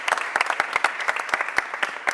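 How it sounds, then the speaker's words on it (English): Audience at a mayor's press event gives a short round of applause, crisp individual claps standing out in a loose, moderately loud burst with no voices over it. "Give Dr. Boyd a round of applause."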